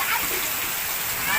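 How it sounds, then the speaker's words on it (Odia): Rain pattering steadily on a surface at an Odia household, a dense hiss of drops, fairly faint and brief, continuous throughout. "ଆସୁ ବର୍ଷା"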